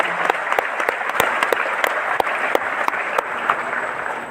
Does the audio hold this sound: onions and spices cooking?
no